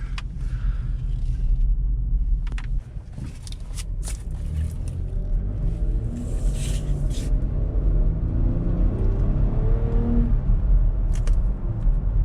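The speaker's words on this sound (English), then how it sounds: "So I'm gonna park this Equinox here." A Chevrolet Equinox rolls along with a steady low engine rumble and tire noise, a few light clicks and knocks mixed in as it is driven and parked.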